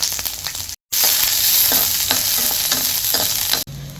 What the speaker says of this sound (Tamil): இப்போ பூண்டு போட்டு வதக்கி எடுத்துக்கலாம்.